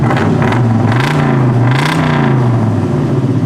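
A 4-speed Z/28 Camaro engine revs loudly and continuously, its pitch rising and falling in a few surges over a steady throaty rumble.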